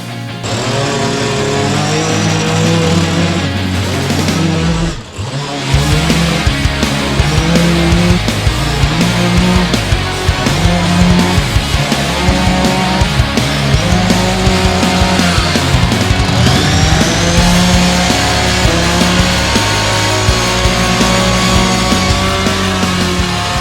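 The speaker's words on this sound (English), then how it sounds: "The power broom basically looks like a weed whacker with a different attachment on the end." A power broom, shaped like a weed whacker with a brush attachment, runs a loud, steady motor whine while brushing synthetic grass. It dips briefly once, then continues droning to the end.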